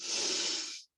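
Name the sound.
deep breathing in during tai chi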